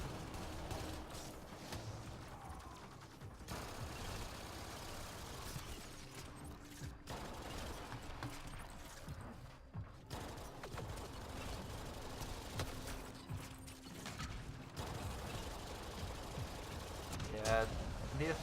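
Rapid video game gunfire from an Athonkin-style weapon firing with turbocharge, a dense continuous rattle of shots and mechanical clatter running throughout beneath steady commentary.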